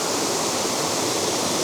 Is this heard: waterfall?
yes